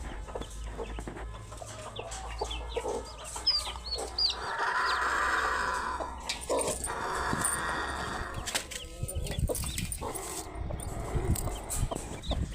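A hen that has just hatched eight chicks after 21 days of brooding clucks repeatedly at close range, with faint high peeping and rustling around her.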